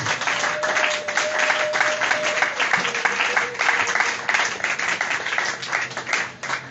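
Church congregation at a joyful worship service clapping and cheering, a continuous dense wave of applause lasting the whole stretch, with a brief sustained tone and some faint voices mixed in.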